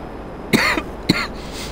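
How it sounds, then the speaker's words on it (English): Two harsh coughs from a livestreaming gamer, close to the microphone, a longer first bark followed by a shorter second one, with quiet room noise between. "Sorry for coughing"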